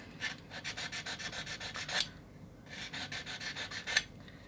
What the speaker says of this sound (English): I'm sanding into that.